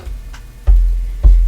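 A grandfather clock ticks in a quiet room, with soft irregular clicks followed by two heavy, low thuds spaced about half a second apart, close and fairly loud, with no talking.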